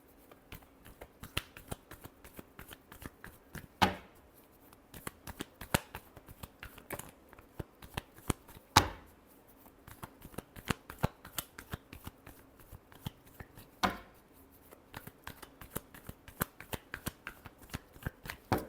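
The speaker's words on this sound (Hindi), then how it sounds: "last shuffle" Tarot deck shuffled by hand for a reading, a long run of crisp, close card riffles and taps in uneven rhythm, with a few sharper slaps standing out, no talking.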